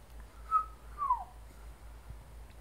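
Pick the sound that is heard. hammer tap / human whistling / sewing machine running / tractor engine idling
human whistling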